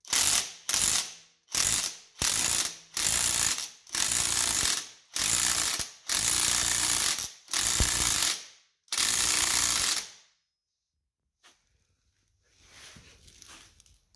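A hand ratchet with a size 24 socket cranks a strut spring compressor on a 2008 Acura MDX, loud close bursts of rapid clicking repeated about nine times with brief pauses, then a quiet stretch and faint handling noise, no talking.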